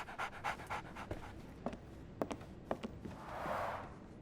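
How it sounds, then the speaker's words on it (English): A dog in the Sherlock Holmes: The Awakened video game pants in quick, soft bursts close up, mixed with a few light taps and footsteps, then gives a breathy sigh near the end. "So, Barnes has a dog now"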